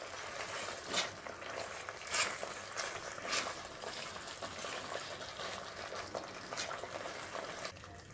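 Millet and pineapple halwa being stirred in a pan, a soft continuous scraping and faint bubbling with a few louder strokes of the spoon, fairly quiet throughout.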